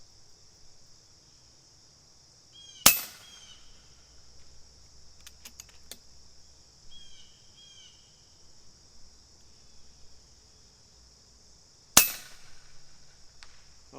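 Two sharp, loud cracks from a Custom FX Impact air rifle fired at a 157-yard target, spaced about nine seconds apart, each with a quick decay, with faint clicks and handling noises in between over a steady high hiss of outdoor ambience.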